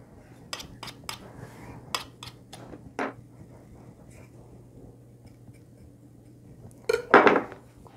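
Dishes and cutlery being handled in a home kitchen after cooking: scattered light clinks and taps, a few clatters, then a louder burst of clanking near the end, heard alone without talk.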